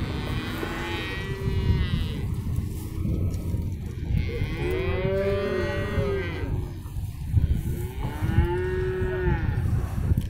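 Cattle moo repeatedly at a livestock market in Tokmok, with long, deep, drawn-out calls from several animals over a busy background hum.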